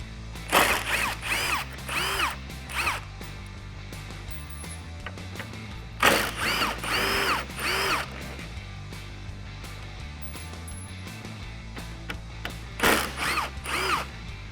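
A 10mm ratchet loosens grille bolts on a RAM 1500 pickup, three bursts of rapid clicking close by separated by quiet pauses.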